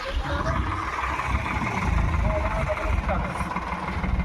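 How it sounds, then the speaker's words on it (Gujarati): A tractor fitted with a loader runs with a steady low engine rumble while unloading cow-dung manure on a farm, with voices talking faintly underneath. "હવે આ સુરેનું ટ્રેક્ટર ને લોડર ખાતર નાખો"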